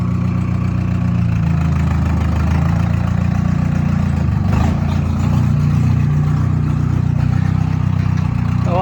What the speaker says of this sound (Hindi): आवाज़ कैसी होगी ट्रैक्टर की यार।